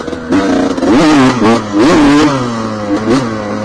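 A 1988 enduro motorcycle engine revving up and down in several sharp loud bursts, rising and falling in pitch between short idle dips, heard close with no talk.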